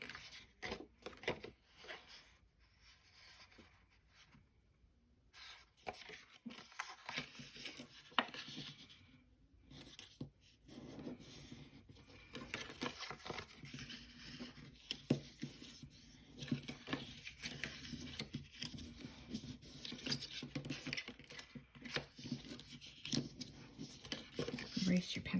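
Scored cardstock is folded along its score lines while making triangular favor boxes, giving soft creasing, rubbing and paper-handling sounds close by under steady talk.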